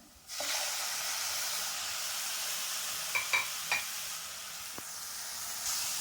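Chopped tomatoes drop into hot oil for a curry and set off a loud, steady hiss and sizzle, broken by a few sharp crackles and pops from the pan.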